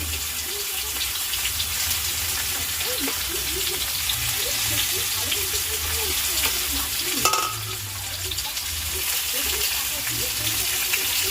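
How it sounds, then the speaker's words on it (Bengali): Meat fries in oil in a pan, a dense continuous sizzle and crackle with occasional stirring knocks, while voices talk faintly in the background. "এই তেলেই সেদ্ধ হবে আর তেলেই ভাজা হবে"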